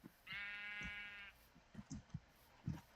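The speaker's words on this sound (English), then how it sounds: "There's another sheep up here." A Minecraft sheep gives one clear, drawn-out bleat with a wavering tone, followed by soft scattered in-game footsteps and thumps; no voices.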